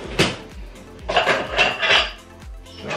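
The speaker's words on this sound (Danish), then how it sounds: "Og så ned i opvasken her." Plates, pots and cutlery clatter and clink as they are set down one after another in a kitchen sink for washing up. The knocks and rattles are loud and close, with no talking.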